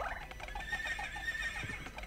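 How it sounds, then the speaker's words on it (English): A horse whinnies in Castlevania: Symphony of the Night, a fairly faint, drawn-out neigh under steady game ambience with light hoof-like thuds. "These horses."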